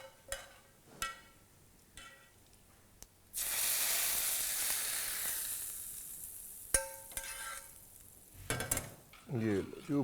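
Hot ghee tempering poured over chole in an Old Delhi setting bursts into a loud, sustained sizzle that slowly fades, framed by sharp clinks of metal utensils and pans before and after.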